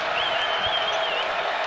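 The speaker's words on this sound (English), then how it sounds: "Crowd's back, coming alive." Roar of a basketball arena crowd at a college game between Nevada and Boise State, a dense, sustained wash of cheering voices with faint whistling, loud and continuous throughout.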